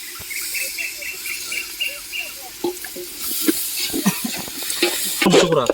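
Tomatoes are tipped into a pan and stirred while frying for chicken biryani, with close scraping spoon strokes, soft sizzling and a few sharp clacks against the pot, growing busier toward the end.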